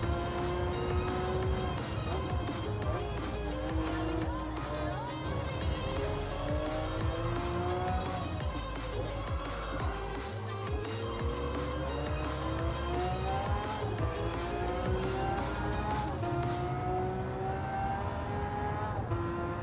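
Race car from Gran Turismo 7 driving hard, with continuous engine roar, rising and falling revs through gear changes and some tire squeal, loud and steady throughout with no talking.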